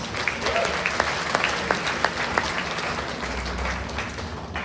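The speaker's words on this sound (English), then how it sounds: "Give him a round of applause, you guys." Sustained applause from a comedy roast audience, steady and dense for several seconds with a few louder claps standing out near the front, gradually thinning at the end.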